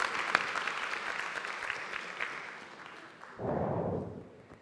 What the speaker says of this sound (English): So this will be our applause for the gentleman.